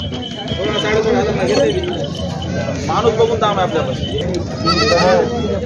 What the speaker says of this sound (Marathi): दावणीची शेळ्या पाहू शकता